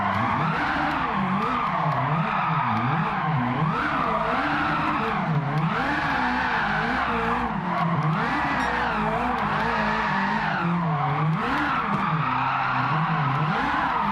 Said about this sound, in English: That's what we call grassroots drifting right there